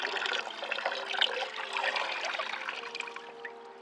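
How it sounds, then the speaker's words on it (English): Bath milk poured into a warm bath, a steady close trickle and splash of liquid running into water, continuous for several seconds and fading slightly at the end. "And pour it into a nice warm bath."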